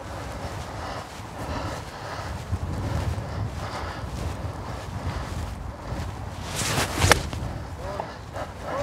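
Gusty wind buffets the microphone outdoors on the Rayleigh Club South golf course, a steady broadband rumble with a louder gust near the end.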